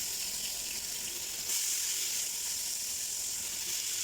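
Chopped onion hits hot oil in a pan with hilsa fish, giving a loud, steady hiss that jumps in intensity midway and continues close up.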